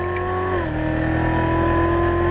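A Corvette C7 Z06 accelerating out of a turn on a racetrack gives a loud, close engine drone whose pitch dips once, as if shifting, then holds a strong, steady roar.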